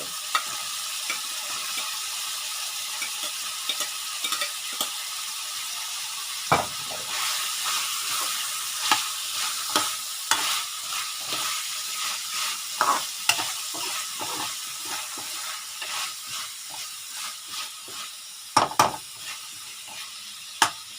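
Long beans and pork neck stir-fried in a pan, with steady close sizzling and repeated scraping and clattering of a utensil stirring throughout, with no speech.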